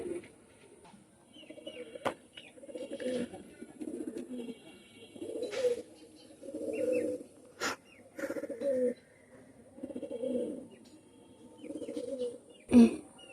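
Khulna red-necked pigeons of a master bloodline coo in repeated low, rhythmic phrases, close by in a loft, with occasional sharp knocks and flutters between the calls.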